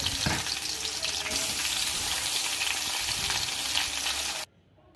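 Onions for a beans and potato sambar fry in a pan, a dense continuous sizzle filling nearly the whole stretch with faint stirring underneath, then cutting off abruptly near the end.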